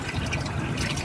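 Engine oil drains from a 2003 Chevy Tahoe during an oil change, a steady close liquid trickle and splatter, continuous through the whole short moment.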